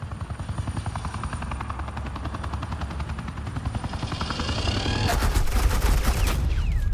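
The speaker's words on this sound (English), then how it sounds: "This is Agent Quinn, suppressing fire." Suppressing gunfire rattles in the Batman The Enemy Within video game, a dense stream of rapid shots under a heavy helicopter-like drone that swells louder and harsher toward the end.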